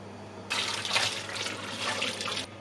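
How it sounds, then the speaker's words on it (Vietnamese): Cold tap water runs over cooked rice noodles in a colander, a steady splashing stream that starts abruptly, lasts about two seconds, then stops. "Rồi mình rửa qua nước lạnh."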